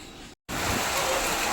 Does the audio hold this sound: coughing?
no